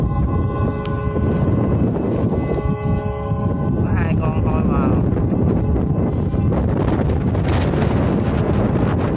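Strong gusty wind roars steadily at an outdoor spot where two black whistle kites fly, with sustained whistling tones from the kites' flutes rising and falling over the wind noise, loud and continuous throughout.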